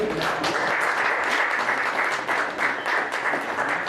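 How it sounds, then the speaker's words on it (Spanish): Sustained audience applause at a cantina tribute evening honoring a poet, steady dense clapping filling the room from start to finish with no voices over it. "por favor, un aplauso"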